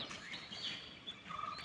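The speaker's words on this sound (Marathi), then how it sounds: "पक्ष्यांचा किलबिलाट" Faint, scattered bird chirps over quiet village outdoor ambience in Konkan, a few short tweets heard from a distance.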